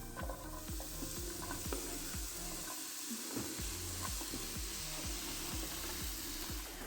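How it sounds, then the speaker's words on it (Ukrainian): Steady sizzling of mushrooms frying in a dry pan, with a continuous crackle and occasional scraping or stirring sounds close by. "На суху сковородку я висипаю грибочки."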